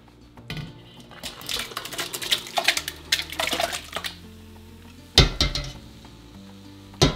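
Spoon scrapes and clanks through BBQ pulled pork in a pot on the stove, with bursts of stirring, knocks against the metal and a low sizzle beneath, close up and uneven.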